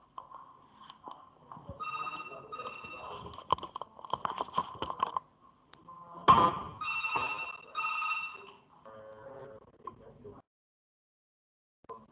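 A telephone rings during a lesson, repeated electronic trills in short bursts across several seconds, fairly loud, with bumps and handling noise in between, then silence.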